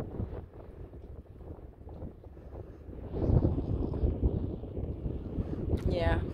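Gusty wind in Quartzsite, Arizona, buffets the microphone in low rumbling rushes that swell louder midway, with a faint higher whine near the end.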